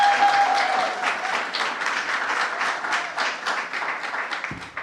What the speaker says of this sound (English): Would you honor her with a huge round of applause this morning?